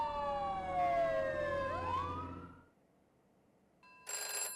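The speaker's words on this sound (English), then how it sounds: "Just then, police sirens can be heard." A police siren wails with a falling, sweeping tone that fades out into near silence, followed by a brief electronic ringing.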